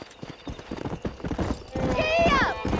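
Horse hooves clip-clop at a quickening pace in the Red Dead Redemption video game, rising to a loud gallop near the end. A horse neighs briefly over the hoofbeats.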